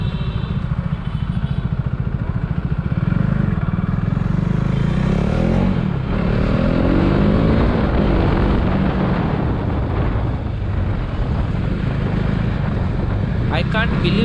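A tuned KTM RC 390 motorcycle on map 1 accelerates hard, its engine a loud continuous roar rising in pitch through the run, with wind buffeting and a voice speaking underneath.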